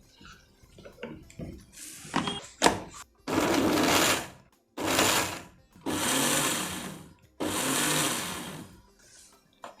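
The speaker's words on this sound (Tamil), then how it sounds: "மிக்சியில் போட்டு பொடி பண்ணிடலாம்" An electric mixer grinder powders sweet bread slices in short bursts, several loud pulsed whirs of a few seconds each with brief pauses between, preceded by faint clattering.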